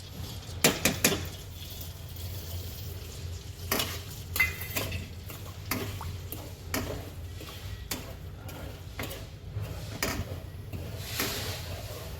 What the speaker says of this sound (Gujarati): આપણે ગુંદ શેકી લઈશું.